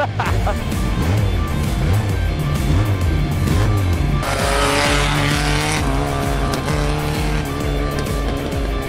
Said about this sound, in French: ça c'est un drift contrôlé